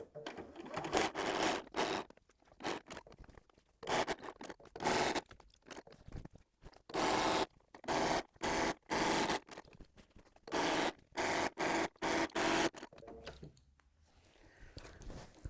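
Domestic sewing machine stitching down both sides of a fabric project bag, running in repeated bursts of steady motor whir separated by short pauses, close and fairly loud, with no talking.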